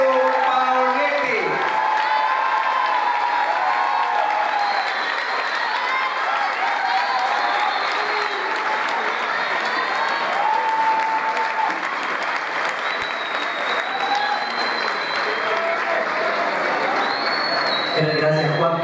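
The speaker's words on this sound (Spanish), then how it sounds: "Fuerte el aplauso para nuestro primer candidato, Edu Paoletti." Crowd applauding a political candidate at a presentation of a council candidate list, sustained loud clapping and cheering that continues steadily for nearly twenty seconds.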